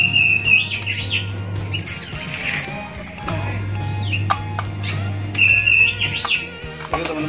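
Oriental magpie-robin fledglings (murai trotolan) chirp in bright, repeated bursts over a steady low hum, with a few sharp clicks and handling noises nearby.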